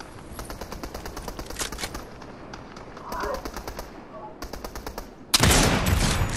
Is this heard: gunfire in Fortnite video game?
yes